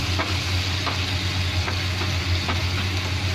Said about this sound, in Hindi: अच्छे से मिक्स करेंगे और टमाटर को नरम होने तक पकाना है।